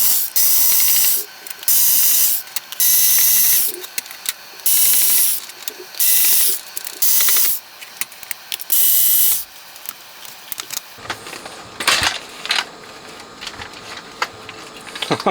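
Screws being unscrewed from the bottom of a Sony midi hi-fi system, close up: bursts of ratcheting screwdriver clicks in repeated runs, then scattered lighter clicks and handling taps at the end.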